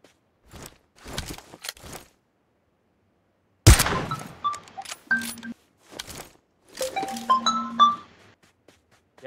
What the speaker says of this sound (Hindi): क्या मैंने शॉट मारा देखे हो तुमने